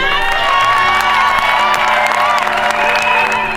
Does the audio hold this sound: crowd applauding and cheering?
yes